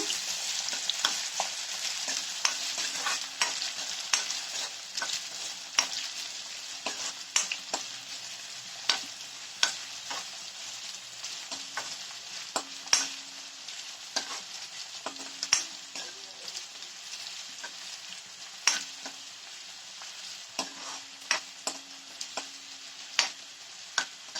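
Ginger fries in hot oil for a gooseberry pickle, a soft continuous sizzle broken by frequent sharp scraping taps as a spoon stirs the pan, with no voices.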